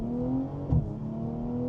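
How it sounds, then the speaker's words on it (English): A stage 2 tuned BMW G42 M240i accelerating hard: a steady, loud engine drone with a rising tone and a short burst of extra roar midway, heard from close by with no talk. "Oh, savage acceleration."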